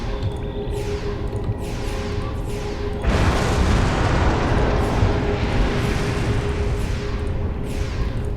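Crates blown apart with explosions in Star Trek Online, a loud roaring blast erupting midway over a dense, rumbling wash of space-combat noise, with repeated sharp bursts and crackling debris throughout.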